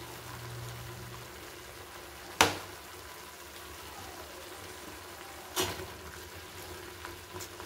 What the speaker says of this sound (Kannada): ಇದಕ್ಕೆ ಇವಾಗ ಮಟನ್ ಹಾಕ್ಕೊಳ್ತೀನಿ, ತಲೆಕಾಲು ಮಟನ್